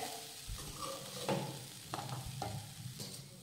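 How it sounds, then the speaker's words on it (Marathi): Freshly grated coconut is stir-roasted over low heat, with soft scraping strokes of a spatula and a faint, gentle sizzle across a few seconds. "त्यामुळे हे कोरडं होईपर्यंत मंद आचेवर साधारण 4 ते 5 मिनिटं परतून घेऊयात"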